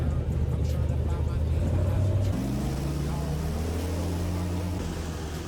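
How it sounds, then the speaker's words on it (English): An airboat's open, above-water propeller and engine drone loudly on a swamp tour for viewing alligators, then climb in pitch as the engine revs up, holding a steady roar. "The propeller gets pretty loud"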